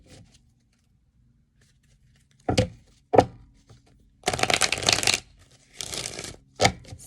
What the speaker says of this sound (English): You need to shuffle these a couple times.